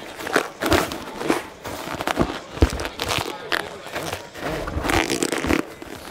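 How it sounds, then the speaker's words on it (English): Foley footsteps performed live through Krotos sound design software at a NAMM trade show demo, a quick run of close, crunchy steps and scuffs with uneven rhythm and some background murmur. "It can be used for footsteps."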